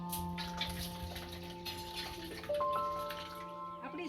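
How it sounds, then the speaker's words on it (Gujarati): Cold water runs over boiled soya chunks in a pot, making a continuous close trickling splash with a faint steady hum in the background. "ઉપરથી આપણે થોડુંક ઠંડુ પાણી નાખીશું"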